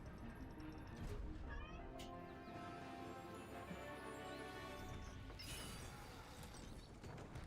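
A house cat meows several times, with drawn-out, harmonic cries that rise and fall over a few seconds, accompanied by a couple of sharp knocks and clatters nearby.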